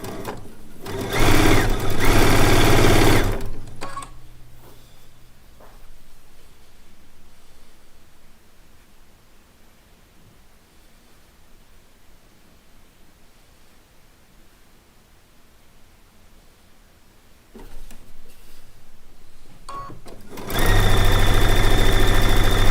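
A sewing machine stitches the seams of a four-patch quilt block made from charm pack squares. Loud runs of fast stitching at the start and end frame a quiet stretch of faint handling noise.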